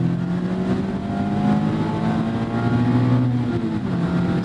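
A 2024 Mazda MX-5 Miata engine held at a steady, loud drone in track mode, with a near, continuous tone that rises slightly in pitch midway and holds without any speech.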